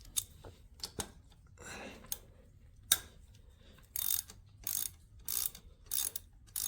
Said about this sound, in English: now we're going to need to break this oil line bolt